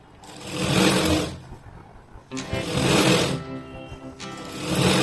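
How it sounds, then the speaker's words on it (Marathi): A sewing machine stitches the back strip of a blouse in two long loud runs, its rapid mechanical whirr stopping briefly between bursts, close up with no voices. "पट्टीमध्ये फोल्ड करून पुन्हा एक शिलाई मारून आपली पाठीची पट्टी पूर्ण तयार होऊन जाते"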